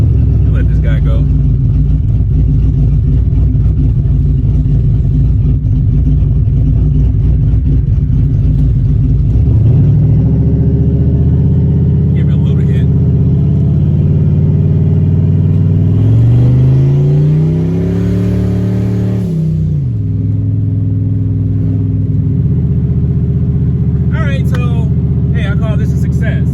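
A car engine idles roughly, then revs up hard in a loud rising pull during testing, the pitch climbing and falling before settling back to a steady idle.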